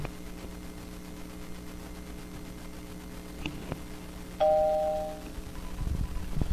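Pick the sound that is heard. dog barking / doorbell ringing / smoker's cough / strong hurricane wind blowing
doorbell ringing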